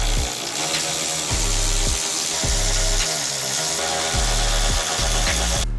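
A power tool takes 7mm screws out of a Chevy Silverado dash, giving a steady mechanical whir broken by repeated ratcheting clicks in a regular rhythm, close and fairly loud.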